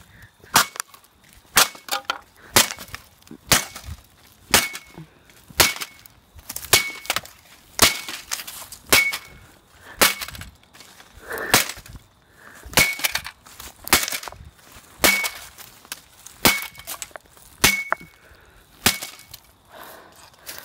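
Rapid repeated blows smash a computer keyboard, a steady run of about twenty sharp cracking impacts roughly one per second, with crunching and splintering plastic between hits, loud and close, no voices.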